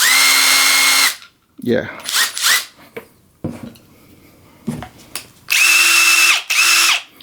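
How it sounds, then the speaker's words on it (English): Bosch Freak brushless impact driver whirring loudly in several bursts of a few seconds each, with brief gaps between runs and a short spoken word in one gap. "Also, you could hear the power of the brushless motor of the Freak."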